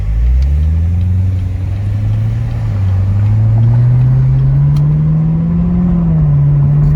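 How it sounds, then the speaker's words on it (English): C7 Corvette V8 engine rumbling loud and close with a steady deep drone, rising slowly as it revs through a gentle pull, no talking over it. "Let's hear this engine."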